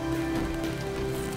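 Hail from an intense storm in the Starbound video game pelts a roof in a steady, dense patter, with a sustained tonal hum running underneath and no talking.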